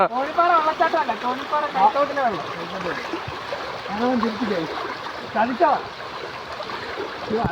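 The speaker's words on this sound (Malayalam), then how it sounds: "ഇതിന് പേര് തോണിപ്പാറ വെള്ളച്ചാട്ടം" Water flowing at Thonippara waterfall makes a steady broadband rush throughout, with a person talking loudly over it for most of the clip.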